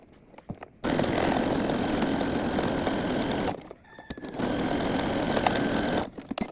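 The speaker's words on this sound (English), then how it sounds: "I'm going to zigzag stitch that close and I'll show you." Sewing machine running a zigzag stitch to close a fabric scrunchie, two fast, loud whirring bursts of about three and two seconds separated by a short pause, with soft handling clicks between.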